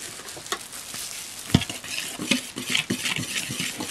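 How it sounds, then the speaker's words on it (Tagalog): Puto batter being stirred in a bowl after baking powder is added, giving a run of scraping, tapping strokes with a few sharper clinks of the utensil against the bowl, close and fairly loud, with no talk. "Haluin natin."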